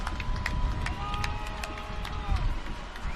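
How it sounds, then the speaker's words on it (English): Stadium crowd at a Phoenix Rising FC soccer match against Monterey Bay FC, a continuous roar of fans with scattered claps and shouts, while a commentator talks over it. "A little extra life in the crowd here at 38th and Washington,"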